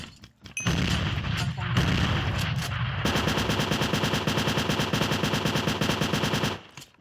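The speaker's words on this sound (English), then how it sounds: "I'm just gonna throw all my uh, grenades at you." Grenade blasts and rapid, rattling gunfire burst in a Minecraft gun mod, with a few heavy explosions first, then a long, dense volley of automatic shots, loud and close.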